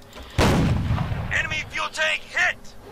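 A single heavy cannon shot from a JagdPanzer's 8.8 gun in the tank game Ground War: Tanks, a loud close blast with a rumbling tail, followed by a few short tonal electronic blips.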